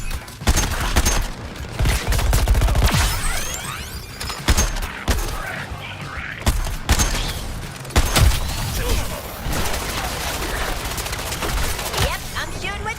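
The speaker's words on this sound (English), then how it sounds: "Yep, I'm shooting with Deadshot." Repeated bursts of gunfire from Deadshot in the Suicide Squad: Kill the Justice League video game, sharp cracks and rapid volleys amid thuds and mechanical effects, loud and close, with voices talking over parts of the action.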